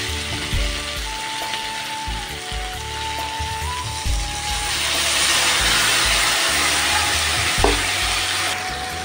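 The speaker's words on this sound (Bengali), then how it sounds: "এখানে আমি আলু আর শিমটাকে ভাজবো, হালকা আছে ভেজে নেব।" Potatoes and flat beans fry in a pan with poppy seed paste, a close sizzle that swells and grows denser partway through, with faint stirring and a low mechanical hum underneath.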